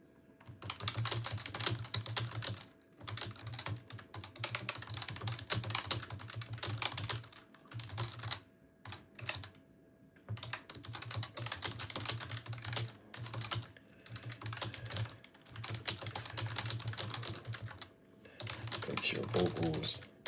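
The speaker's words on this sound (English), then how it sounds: "Sorry, I type very fast." Very fast typing on a computer keyboard, dense rapid clicking in bursts separated by short pauses, with a low steady hum and a voice talking at times.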